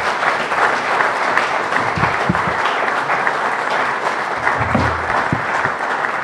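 An audience at a swearing-in ceremony applauds, with dense, sustained clapping from many hands throughout and no clear speech.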